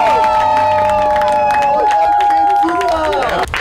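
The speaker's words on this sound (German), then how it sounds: "Ganz großen Applaus." A party crowd cheers and claps loudly for an award winner, with sustained whooping voices and scattered clapping close by. The noise stays full and busy throughout, then drops slightly at the very end.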